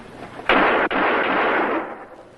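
A single sharp pistol shot in a radio drama, followed by a second crack and a sustained noisy roar that fades away after about two seconds, with no voices.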